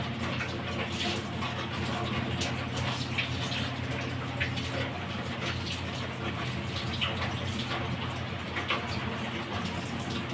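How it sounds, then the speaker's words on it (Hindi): Water runs steadily from a tap as hands are washed, a continuous rushing gush close by with faint muffled background voices. "मैं हाथ धो के आती हूँ।"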